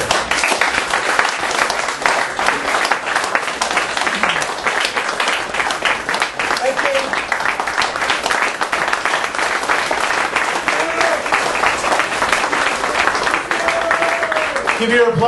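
An audience at an art bar event applauds artist Luciano Iacobelli with dense, sustained clapping that stays loud and steady, and a few voices come through faintly underneath.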